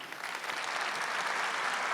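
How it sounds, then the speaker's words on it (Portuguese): A congregation at Mass applauds in a church, a steady wash of clapping that holds evenly for a couple of seconds. "Aplaude esta verdade."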